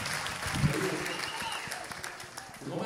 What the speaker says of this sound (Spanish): El aplauso para estos colegas míos, que son mi soporte esta noche